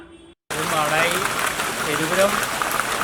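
Steady, dense rain pours around a roadside bus shelter in front of a police station near Pazhayangadi, where water and mud have gathered. The hiss is loud and continuous, with voices faintly underneath.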